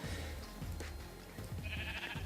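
Several sheep in the Minecraft video game bleat in short wavering calls, one after another, over a faint steady background hum.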